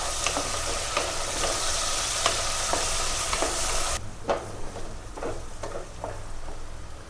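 Ginger garlic paste sautéing in a pan for vegetable pulao, giving a steady sizzle and fry with scattered stirring scrapes and clicks; the sizzle is loud at first, then drops sharply to a quieter crackle under continued stirring.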